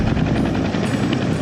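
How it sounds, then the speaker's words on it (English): A helicopter circles overhead near Tikaboo Peak, its loud, steady rotor thrum pulsing continuously throughout. "There's the helicopter again."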